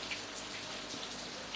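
Steady soft rain patter, a diffuse hiss with scattered faint drops, close and even with no voices.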